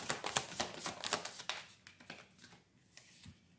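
Tarot cards being shuffled in quick, soft riffling bursts, crisp flutters close up that thin out and fade toward the end.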